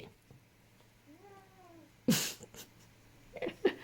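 A house cat lets out a single drawn-out meow, clear and close in a quiet home, followed by a sharp noisy burst and a few scattered soft sounds.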